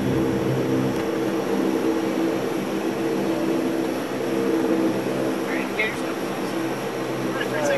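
Reeve Aleutian Lockheed L-188 Electra propeller airliner taxiing before takeoff, heard from the cockpit as a steady droning turboprop hum with a constant low rumble throughout.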